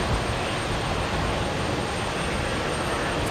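A passenger aircraft on the runway at Brisbane Airport during a cyclone evacuation, heard from about a kilometre away as a steady, loud, broadband engine roar that fills the whole moment without letting up.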